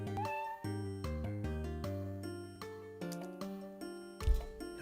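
In the Nintendo DS game Time Hollow, a cat meows several times in quick succession, heard over stepped, tonal game music.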